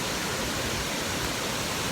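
A waterfall on a Pennsylvania hiking trail pours steadily with flowing water, a dense, constant roar of falling water close by with no voices.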